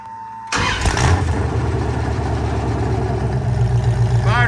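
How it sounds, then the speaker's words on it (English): A Dodge Challenger rebuilt as a stripped-down race car fires up abruptly with a loud crack, then settles into a heavy, rumbling idle through a harsh, open exhaust that stays loud and close. "Fired right up."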